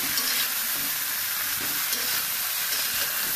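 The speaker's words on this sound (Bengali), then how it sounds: "আমি দিয়ে দেবো ডালটা ঢেলে।" Dal poured into a pan of fried radish-green stems with salt, giving a loud continuous sizzle and hiss with faint stirring scrapes. No one speaks over it.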